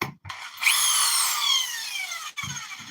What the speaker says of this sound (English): I'm going to drill a little hole right here